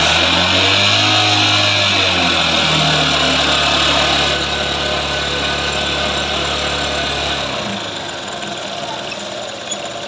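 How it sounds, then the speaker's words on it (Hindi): An engine held at raised revs to warm it up, a steady loud hum with a falling tone that settles to a lower idle after about seven seconds, close and with no talk. "हमें रेस देके गर्म करना है।"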